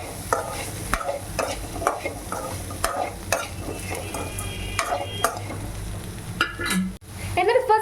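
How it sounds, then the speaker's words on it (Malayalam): Chickpeas (kadala) are stirred in a pan for kadala sundal, with a spoon repeatedly scraping and clinking against the metal amid a steady low sizzle, the strokes coming in a regular rhythm up close. "എന്നിട്ട് നമ്മൾ നന്നായിട്ടൊന്ന് ഇളക്കി യോജിപ്പിക്കാം."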